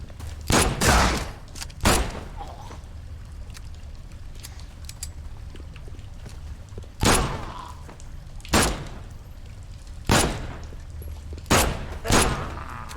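Pistol shots in The Sinking City video game, fired singly or in quick pairs with pauses between, each a loud sharp crack standing alone over a low ambient bed.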